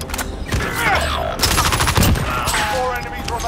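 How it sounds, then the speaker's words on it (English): Video game gunfire crackles in repeated bursts and volleys, loud and close, with a burst around the middle of the stretch, while a voice talks over the shooting. "taking fire!"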